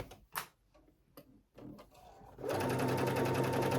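After a few faint handling clicks and taps, a sewing machine starts up and stitches steadily over the raw edge of a tank top, its rapid mechanical chatter filling the remainder.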